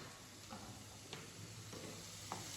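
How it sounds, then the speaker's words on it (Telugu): Tomato egg curry is stirred in a pan, with faint scraping and a few light spoon taps over a low, quiet sizzle. "మళ్ళీ ఒకసారి కలిపేసి కొంచెం కారం వేసేసుకుందాం"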